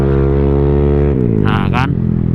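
Honda Vario scooter with a faulty IACV sensor, idling with a steady low drone and then revved twice in quick bursts, loud and close, while someone speaks over it.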